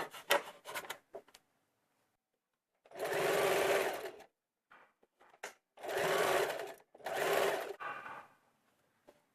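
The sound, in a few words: sewing machine stitching a churidar neck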